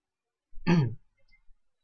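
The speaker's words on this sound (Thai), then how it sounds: "กูจะกระแอมทำไมนักหนาครับ" A single short, close throat clearing, a raspy voiced rumble lasting about half a second, followed by faint breathy traces in an otherwise quiet moment.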